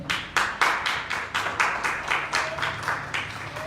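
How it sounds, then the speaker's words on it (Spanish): A congregation in a Spanish-language church service claps in unison, a steady rhythm of about a dozen sharp, evenly spaced claps, moderately loud with no talk. "denle un aplauso al Señor"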